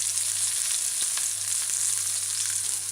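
A fish patty frying in oil on a stovetop, giving a steady, loud, continuous sizzle with faint crackles throughout and no voices.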